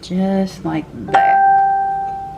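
A voice speaks briefly, then a bright chime rings out from a phone and sustains, fading slowly as a single electronic notification tone.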